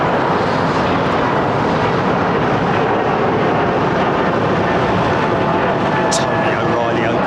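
A TUI airliner departs Heathrow runway 09R and passes overhead with a loud, sustained broadband jet roar, while voices carry on nearby.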